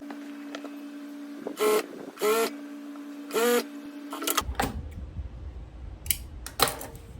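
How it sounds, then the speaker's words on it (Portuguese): A domestic or industrial straight-stitch sewing machine runs in short bursts to hem knit fabric, each whirring burst close and clear between pauses, then fabric handling and clicks follow. "Isso é uma técnica para vocês costurarem malha aqui na reta, sendo ela industrial ou doméstica"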